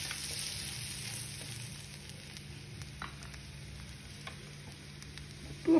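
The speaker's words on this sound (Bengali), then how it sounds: "বাটারটা দিয়ে মেল্ট হয়ে যাচ্ছে। এবারে আমি এই গার্লিকটা দিয়ে দিচ্ছি।" Garlic frying in melted butter, giving a continuous, even sizzle with faint stirring, close and moderately quiet, with a brief knock at the end.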